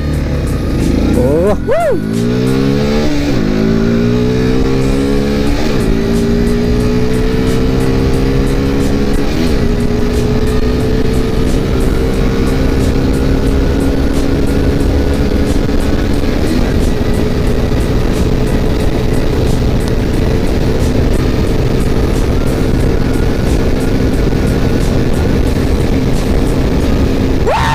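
A 200cc motorcycle ridden on a road, its engine revving up through the gears with rising and falling tones, loud and continuous with wind rush, while a rider briefly exclaims.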